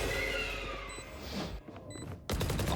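Gunfire in the game Valorant interrupting a spike defuse, a rapid burst of shots with bright synthetic effects, a short lull, then another loud burst near the end.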